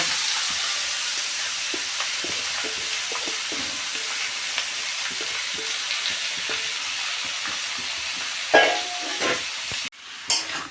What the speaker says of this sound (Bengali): এবার যে মাংসটা আমি মাখিয়ে রেখেছিলাম সেই মাংসটা এর মধ্যে দিয়ে দেব